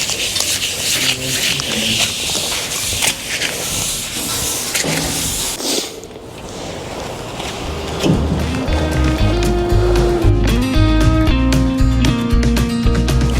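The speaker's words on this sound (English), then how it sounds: "now I will go through it with a blue Scotch-Brite pad" A blue Scotch-Brite pad scrubs the surface of a Fendt Rogator 934H during detailing, giving a steady close rasping rub for several seconds before music takes over.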